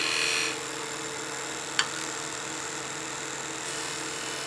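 A skew chisel cuts into wood spinning on a lathe, giving a steady, hissing, whirring drone at moderate level with a single brief click partway through and no voices.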